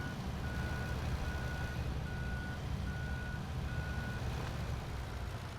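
Tractor in Farming Simulator 17 idling with a steady engine drone while a reversing alarm beeps at an even pace, about six evenly spaced tones, with no talking.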